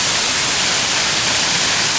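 Water pours at Benlister Falls in a loud, constant hiss and rush that fills the whole moment without variation, alone with no talking.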